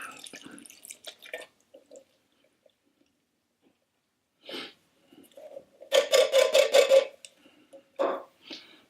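Canned whole corn with its liquid slides and plops from the can into a pot, a quick run of close wet splats and gurgles between scattered soft clicks and pauses.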